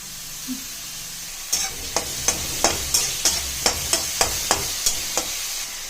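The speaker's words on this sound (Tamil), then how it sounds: "இப்போ இதில் வெங்காயம் ஆட் பண்ணிக்கலாம் ஃப்ரெண்ட்ஸ். நல்லா வதக்கணும் இந்த வெங்காயத்தை." Finely chopped onions sautéing in butter and ghee for a mushroom gravy, a constant sizzle broken by about a dozen sharp, evenly spaced spatula taps and stirs against the pan; no voices.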